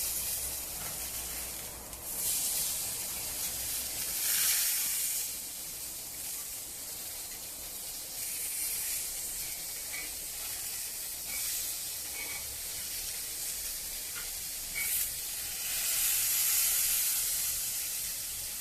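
Vegetables sizzle on a very hot oiled grill, a steady hiss with louder bursts of spitting and crackling as pieces land on the surface, close and alone without talk.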